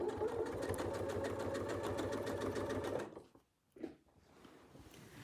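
A sewing machine stitching a quilt runs with a steady, fast mechanical clatter for about three seconds, then stops, followed by a brief quieter thump.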